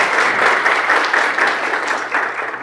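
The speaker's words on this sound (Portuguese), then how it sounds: "uma salva de palmas para" Seminar audience on state tax studies applauding the vice-governor, a loud, continuous round of clapping from a large room that eases slightly toward the end.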